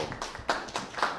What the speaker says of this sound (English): I think we need to applaud Reverend Dr.